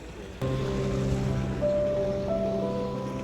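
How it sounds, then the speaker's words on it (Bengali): Steady rush of sea surf close by on the Santorini coast between Fira and Imerovigli, with a low droning hum running underneath the whole time. "অন্যদিকে সমুদ্রের ঢেউয়ের শব্দ"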